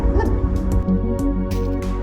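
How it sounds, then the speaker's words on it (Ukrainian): Young puppies yip and bark close by, with several short, high barks and whimpers scattered in quick, irregular bursts. "І такі цуцики, цуценята вже підрощі."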